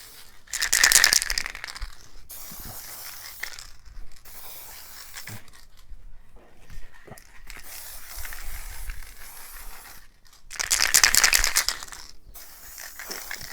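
Aerosol spray can coating a Ford Model A distributor outdoors: two short bursts of bright hissing spray, one at the start and one near the end, with quieter handling and rattling sounds in between.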